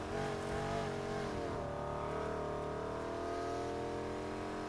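A racing car in Need for Speed Heat, braking hard and scraping against another car: a loud, sustained engine drone whose pitch drops sharply then settles into a steady hum with a harsh grinding edge.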